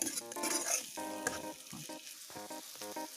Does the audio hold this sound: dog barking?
no